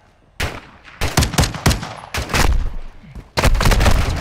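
Rapid video game gunfire in an alley gunfight, several loud, close bursts of automatic and single shots in quick succession with brief pauses between volleys.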